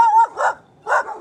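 Dogs on a roadside into Tlacotalpan bark close and loud, a few sharp yelping barks in quick succession with a whine at the start.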